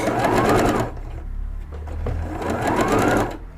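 A Bernette sewing machine fitted with a rolled hem foot stitches a narrow rolled hem in two loud, fast, rhythmic bursts, close by, separated by a short quieter pause.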